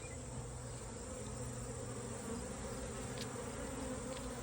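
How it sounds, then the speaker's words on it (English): A clustered honeybee swarm hums as a thick, continuous drone, close and even, with single bees zipping by near the listener now and then. "Here's where the cluster of bees are at."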